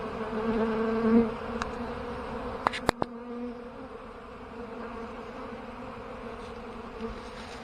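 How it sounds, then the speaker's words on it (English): Bees buzz around the hives of an apiary in February, a close bee droning loudly for about a second before fading, then a continuous softer hum of many bees in flight, with a couple of sharp knocks partway through. "Definitely a bunch of bees flying around."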